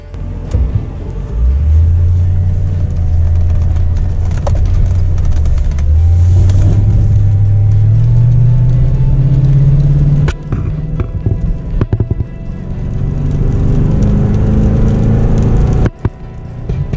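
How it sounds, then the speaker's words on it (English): A Toyota Tundra pickup in tow haul mode pulls out and accelerates to 50 while towing a 4,000-pound trailer. Its loud, steady engine drone climbs in pitch, drops at a shift, then rises again, with no talk. "show the motor acceleration we're using here to pull out and accelerate to 50"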